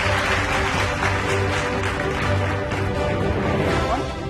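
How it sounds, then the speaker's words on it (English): Audience applause fills a conference session at a Google business partnership event, steady and sustained clapping from a crowd for the whole stretch with no break. "Let's have a huge round of applause."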